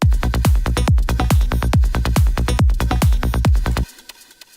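A dense, pulsing granular synthesis texture of rapid repeated plucked-like bursts, loud and steady, cutting off abruptly near the end into faint noise.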